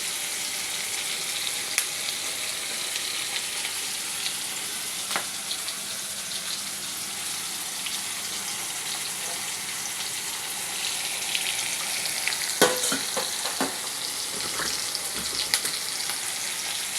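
Crushed garlic cloves fry in a pan with a steady, close sizzle throughout, joined near the end by a cluster of louder clinks and scrapes.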